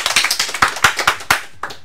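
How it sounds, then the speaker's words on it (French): A small audience claps to welcome a nine-and-a-half-year-old boy onto a show: sharp, uneven hand claps from a handful of people, close and brief, with no voices. "nous allons accueillir sous un tonnerre d'applaudissements Hugo."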